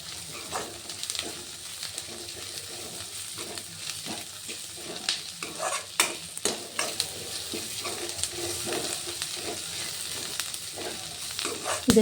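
Onion, garlic, ginger and green chilli frying in a pan: a continuous close hiss of sizzling oil with soft irregular knocks and scrapes of stirring, no voices.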